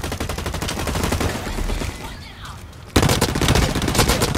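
Light machine gun firing in Blacklight: Retribution, a rapid, continuous stream of loud close shots that briefly thins out before a heavier burst resumes, with voices talking over it.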